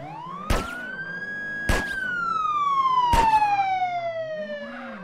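A police siren in the game MTA wails loud and close, its tone sweeping up and then sliding slowly down, broken by three sharp percussive bangs.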